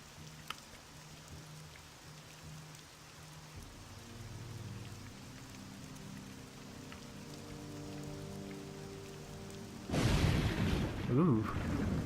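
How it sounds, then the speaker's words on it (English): Steady rain in the Xbox game The Elder Scrolls III: Morrowind hisses as a continuous wash of mid-level patter that swells louder toward the end, with low game ambience beneath it. "Oh great, now it's raining."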